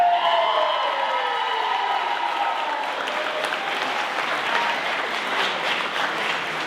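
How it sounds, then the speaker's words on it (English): Wedding guests break into applause for the bride, loud sustained clapping with a few whoops and cheers rising over a fading musical tone at the start, continuing evenly throughout. "let's kick off this evening by giving the bride a big round of applause"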